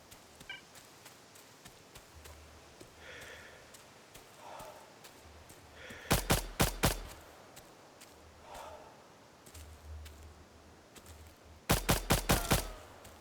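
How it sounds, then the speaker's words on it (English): Gunfire in the Stalcraft: X video game comes as two loud bursts of rapid automatic shots, each four or five cracks in quick succession, over quiet background noise and faint voices. "He's shooting at friendly NPCs."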